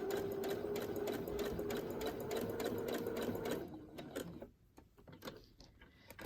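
Sewing machine stitching cover fabric for winter journals, a fast steady mechanical whir up close that runs for several seconds, then slows and stops, leaving faint handling noises.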